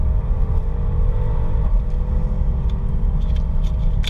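A connected car accelerates along a straight toward about 90 km/h, its engine giving a steady, loud rumble heard from inside the cabin, with faint ticking and rattles on top.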